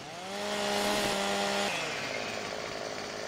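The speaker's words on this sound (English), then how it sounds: "All you gotta do is take your chainsaw." A chainsaw in a farming video game revs with a steady buzzing whine while cutting tree limbs, loud and close, then tapers off into a lingering rumble with no voices.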